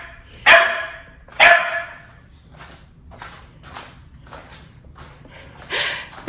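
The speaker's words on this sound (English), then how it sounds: "She barked the entire time." A pet dog barks at home in a handful of sharp, loud, close barks spaced a second or so apart, with softer yips and bumps in between.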